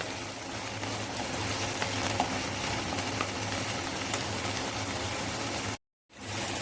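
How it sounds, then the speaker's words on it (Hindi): Chopped onions fry in a pan toward light golden, giving a steady, even broadband sizzle that runs for several seconds before a brief complete dropout, then resumes. "अब इसमें से थोड़ा सा लाइट गोल्डन कलर होने तक भून लेंगे।"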